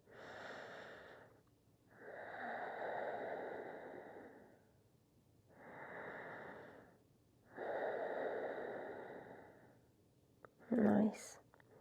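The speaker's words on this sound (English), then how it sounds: "Begin to deepen your breaths, making them long." Long, deep breaths during a yoga session for tailbone and back pain, slow airy inhales and exhales in an even rhythm, close and soft, ending with a brief louder sound.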